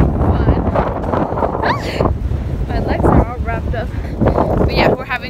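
Strong wind buffets the microphone throughout at the beach, a steady roaring rush, while a person talks over it.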